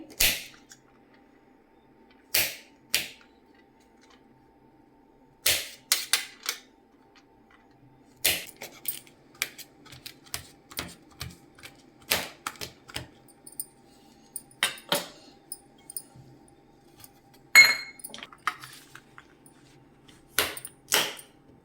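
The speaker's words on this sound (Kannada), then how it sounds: "ಹಾಗೆಯೇ ಪಿಸ್ತಾನೂ ಕೂಡ ನಾನು ಚಿಕ್ಕದಾಗಿ ಕಟ್ ಮಾಡ್ಕೊತೀನಿ" Knife chopping pistachios into small pieces on a board, sparse sharp clicks and taps in irregular bursts, close and fairly quiet.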